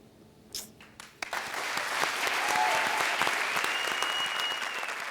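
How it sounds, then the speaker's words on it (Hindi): Loud, sustained audience applause fills a comedy show stage after a performance, rising after a few scattered early claps into a steady, dense wash of clapping that holds to the end. "तो सबसे पहले हमारे आज के सुपरस्टार किशोर के लिए जोरदार तालियां"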